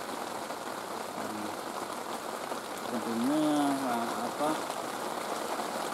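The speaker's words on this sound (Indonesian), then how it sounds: "sekarang udah hujan ya, tadi sempat kabut juga" Heavy rain at a campsite near a waterfall, a steady dense hiss throughout, with someone speaking briefly partway through.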